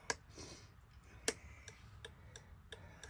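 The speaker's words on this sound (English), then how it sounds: "this is my right and left turn signal" A car's turn signal flasher ticks in a steady, even rhythm, crisp and close, with nothing else much around it.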